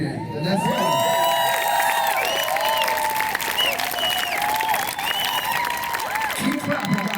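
A crowd claps, cheers and whoops loudly and steadily in a packed fitness-class setting as a celebrity trainer is introduced, with excited voices and shouts layered over the continuous applause.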